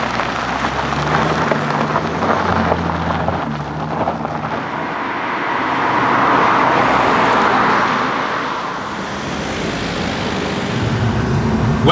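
A Mercedes SLS AMG roadster drives on a road around Stockholm, giving a steady, full road and wind roar with engine drone that swells slightly midway.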